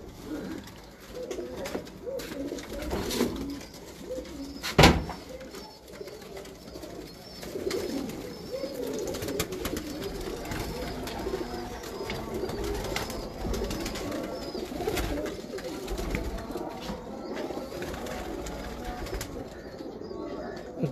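Breeder pigeons cooing in a loft, low repeated throaty coos going on steadily through the stretch with a sharp clatter near the start and people talking in the background.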